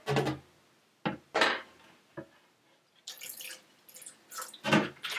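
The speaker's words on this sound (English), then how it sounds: "So for the last rinse, I'm just going to add a splash of white vinegar." Lettuce greens being rinsed in water with a splash of white vinegar: bursts of splashing and dripping water, with several separate sloshes and a busier run of rinsing noise toward the end, close and fairly clear with no talk.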